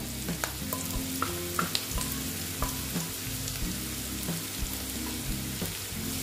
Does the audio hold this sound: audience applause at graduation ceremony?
no